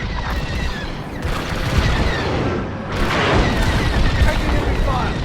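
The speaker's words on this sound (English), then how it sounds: "Taking heavy fire." Explosions and heavy blaster fire batter a starfighter in Star Wars: Squadrons, booming blasts and rumbling fusillades loud and close over a continuous engine roar, with a radio voice talking through it.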